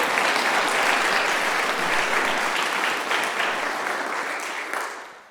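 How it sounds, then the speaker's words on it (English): Audience applauds sponsors at an eclipse event at DePauw, a full steady burst of clapping that gradually fades out at the end. "So let's give a round of applause to our sponsors."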